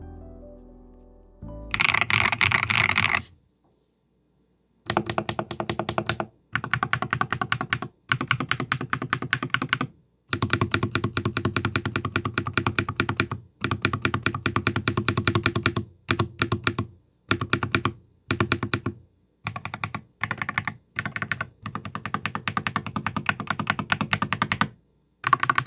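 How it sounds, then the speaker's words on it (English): Rapid keystrokes on a Madlions Mad 60/68 HE Hall effect gaming keyboard, close and clear, in bursts of steady clacky typing broken by short pauses, with no talking. "Now it's time for the sound test."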